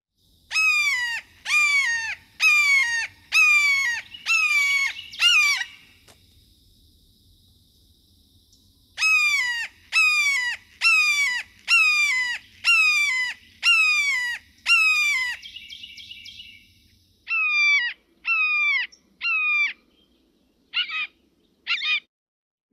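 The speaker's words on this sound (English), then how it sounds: "red shouldered hawk" Red-shouldered hawk calling in repeated series of loud, clear, descending nasal screams, about six notes per burst, in two long runs followed by shorter scattered calls, with no other sounds.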